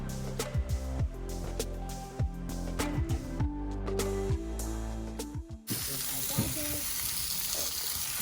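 Armadillo and raccoon meat sears over an outdoor cooking fire, with sizzling and crackling interrupted by clanks and scraping of cookware. The sound shifts to a steady loud hiss near the end.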